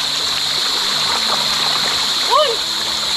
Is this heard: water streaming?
yes